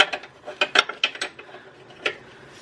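Metal ratcheting clicks from a wrench loosening an 18 mm bolt on the lower control arm of a 2003-or-later Saab 9-3, close and irregular, several quick bursts then a lone click.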